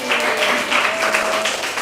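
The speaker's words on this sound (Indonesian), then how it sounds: "Tepuk tangan ketiga teman kalian tadi." A classroom of students applauds three classmates who placed in a contest, a dense, continuous patter of many hands at moderate loudness with a faint voice or tone running underneath.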